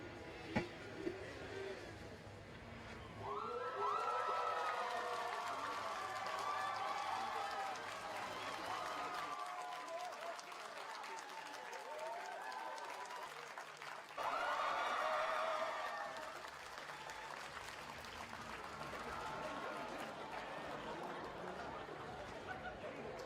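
A crowd cheers and applauds at a big local election victory, swelling into loud roaring bursts that stay continuous throughout, with a brief lull in the middle before a second surge.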